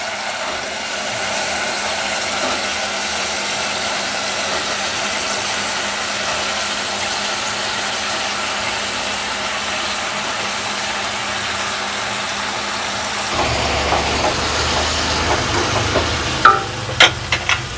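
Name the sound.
vegetables being stir-fried in a pan for a hilsa fish recipe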